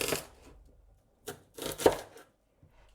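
A knife chops a red onion on a board in a few faint, separate bursts of cutting with quiet gaps between them.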